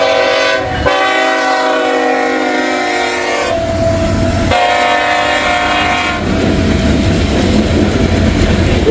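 A freight train locomotive sounds its horn loudly and close by in repeated long blasts, with the rumble and clatter of the passing train underneath.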